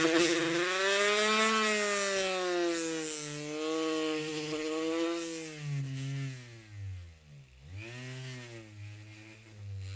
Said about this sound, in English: I'm just going to do some polishing on this real quick